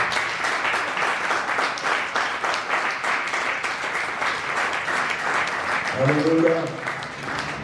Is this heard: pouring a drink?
no